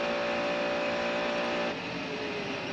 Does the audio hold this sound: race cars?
yes